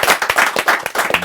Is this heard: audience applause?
yes